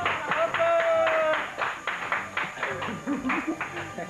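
A few people clap briefly in a small indoor gathering, giving scattered, close hand claps mixed with overlapping chatter and laughter.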